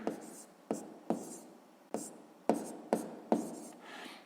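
A pen scratches out numbers on paper during a sixth-grade fraction exercise, in about eight separate short strokes spaced through the clip, close and fairly quiet.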